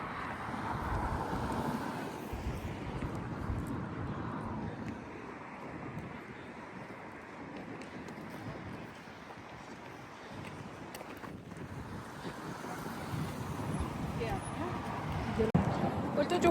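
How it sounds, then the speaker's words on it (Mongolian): Wind buffets a microphone outdoors on a Stockholm street, a faint, continuous low rumble and rush that swells and eases over several seconds, with people talking under it. "Салхитай."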